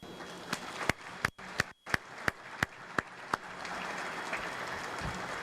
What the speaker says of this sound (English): join me in a well-deserved round of applause for the medic warriors and the 436 Medical Group